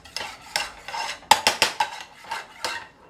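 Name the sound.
stirring barbecue sauce in a pot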